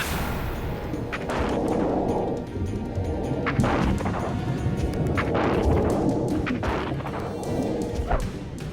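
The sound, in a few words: honor guard rifle salute volley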